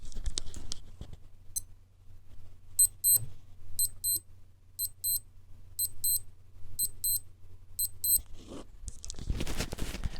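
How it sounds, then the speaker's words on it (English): Casio WS-1600H digital watch alarm being tested with a microphone against it: six evenly spaced double beeps, high and thin, with handling noise and button clicks before and after. "long press it, and you can hear the alarm activate"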